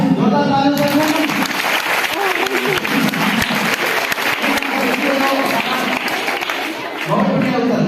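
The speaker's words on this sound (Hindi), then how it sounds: "जोरदार तालियों से स्वागत" Loud, continuous applause from a quiz audience fills the room throughout, with voices mixed into the clapping.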